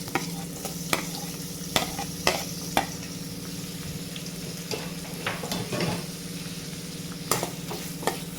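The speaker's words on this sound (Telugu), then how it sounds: "ఇప్పుడు ఇందులోకి కట్ చేసి పెట్టుకున్న ఆనియన్స్ వేస్తున్నానండి." Chopped onions fry in hot oil in a pan, with a steady sizzle broken by the scrape and knock of a spoon stirring at intervals, heard up close without any voices.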